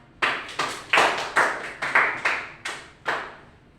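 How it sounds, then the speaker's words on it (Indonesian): A classroom of students claps for a classmate during a micro-teaching lesson on Archimedes' law, with about nine sharp, separate claps in a quick, loosely even rhythm, close and fairly loud. "Semoga tepuk tangan dulu untuk anak."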